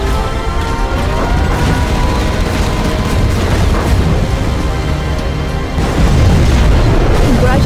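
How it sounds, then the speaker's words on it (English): A nuclear missile is launched and explodes in Command and Conquer Generals Zero Hour. The blast is a loud, sustained roaring rumble with crashing, debris-like texture that surges again near the end. "We have launched our nuclear missile."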